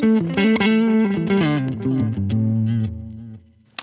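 An electric guitar played through a Line 6 Helix with reverb, delay, high and low cut, and light compression rings out a short clean melodic phrase, with notes sustaining and trailing off at the end.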